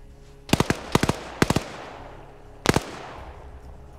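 Grenade blast in Arma 3 during a competitive PvP tournament match: a rapid cluster of sharp cracking bursts, then a pause and one more close burst, each followed by a decaying rumble.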